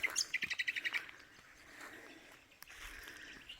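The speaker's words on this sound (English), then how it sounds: "It's got some little finches flying around in it." Small finches chirp in a quick run of high, bright tweets from a tree in a Far North Queensland cemetery, then quieter scattered calls over a soft outdoor background.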